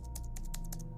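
Keypad entry of a password in the video game Fort Solis: about six sharp, close button clicks in quick, slightly uneven succession over a constant low electronic hum.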